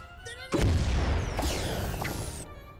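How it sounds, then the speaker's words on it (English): A rocket shot bursts into a loud explosion in the video game Mario + Rabbids Kingdom Battle, a heavy boom with a rumbling tail and a whistling sweep, ringing out over game background sounds. "I'm gonna shoot a rocket here."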